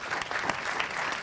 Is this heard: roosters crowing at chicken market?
no